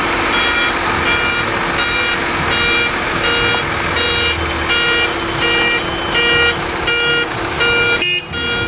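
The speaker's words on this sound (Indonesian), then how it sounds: "Wadidaw, ini mobil molen teman." A cement mixer truck backs up, its reversing alarm beeping in a steady repeating rhythm over a constant engine hum, loud and close, with a brief clatter near the end.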